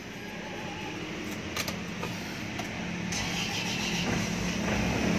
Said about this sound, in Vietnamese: xe đề nhẹ cái là đổ máy rồi nha anh chị nha